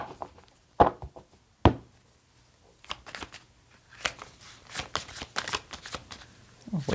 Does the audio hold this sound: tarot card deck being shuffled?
yes